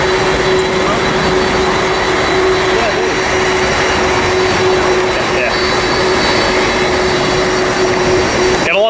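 Southwest jet airliner landing at LAX: a loud, steady roar of jet engines fills the whole stretch, with a sustained whine on top and wind-buffeted rumble, ending with a brief rustle near the microphone.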